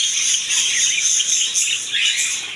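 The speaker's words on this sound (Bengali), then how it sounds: "আজকে আমি পাখি ঘরের নতুন কালেকশন দেখাবো, লাভ বার্ড পাখি।" Lovebirds in a bird shop at a market in Pabna chirp nonstop. It is a dense, shrill chorus of many overlapping high tweets, close and continuous, with no voices.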